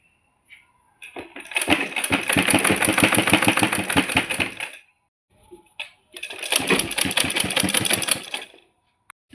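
A sewing machine stitches a pillow cover in two steady mechanical runs of rapid, even clatter, loud and close, separated by a short pause, with brief handling clicks between.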